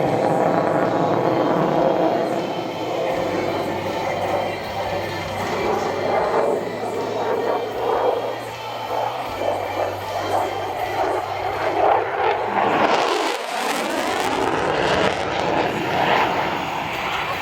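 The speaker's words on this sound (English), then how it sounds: "Watch now as Captain Impulsory approaches from your left for a high-speed pass" An F-16 fighter jet makes a high-speed pass at an air show at Iwakuni, a loud roaring engine building steadily and sweeping past with a sharp shift near the end, over distant crowd noise.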